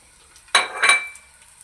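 Large sliced onion rings dropped into hot oil in a pot: a short sudden sizzling hiss that swells briefly, then fades to a soft crackle, with no talk.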